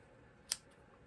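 A single crisp snip of scissors trimming card stock off the roll while making a Stampin' Up! double-flip fun fold card, one short sharp cut in a quiet room.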